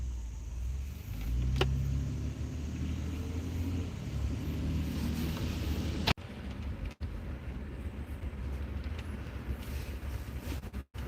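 A Ford F150 pickup with a cam phaser rattle drives under light load. It gives a steady interior hum of engine and road noise with some wind, heard continuously from inside the cab with no voices.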